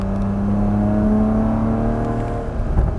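A Porsche Cayman GTS pulls on a racetrack, its engine holding a steady droning note under acceleration before easing off toward the end, fairly loud and close from inside the car with no voices.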